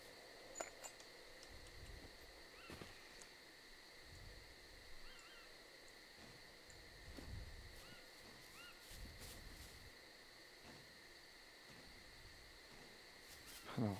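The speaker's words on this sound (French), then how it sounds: "j'entends des grillons" Crickets in the survival video game SCUM chirp as a faint, continuous high trill across a quiet night scene, with soft scattered thumps and clicks beneath.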